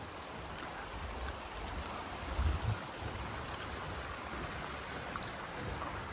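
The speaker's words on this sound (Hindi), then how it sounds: "ये जो पानी आ रहा है ये ऊपर पहाड़ों से रिस कर आ रहा है" Meltwater seeps down from the mountains beside a frozen stream in a Kashmiri village, giving a steady, soft rushing of water with a few low thumps and no talking.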